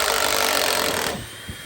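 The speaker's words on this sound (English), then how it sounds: "the worker up there is just going to undo the other couple of screws at the other end" A power drill backing screws out of a wooden roof truss on an off-grid homestead, a steady whirring buzz for about a second before it stops, leaving quiet outdoor ambience.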